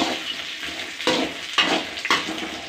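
Tomatoes sautéing in a pan for tomato thokku give a steady close sizzle, with louder stirring bursts about every half second to a second; no one speaks.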